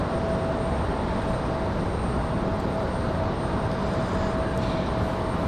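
Sun Country airliner in Tide Pod livery arriving at Raleigh Durham airport, a steady broadband jet roar with a faint high whine, constant and fairly loud, no talking.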